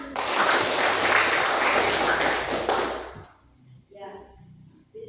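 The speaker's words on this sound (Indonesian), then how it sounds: "coba tepuk tangan." Schoolchildren in a classroom clap their hands together in a loud, dense burst that lasts a few seconds, then stops abruptly into quieter room sound and a teacher's voice.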